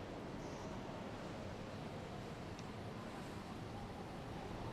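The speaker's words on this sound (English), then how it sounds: "Rushing water." Rushing water in the game Fallout: New Vegas, a steady broadband roar that stays constant and fairly faint, with no talk over it.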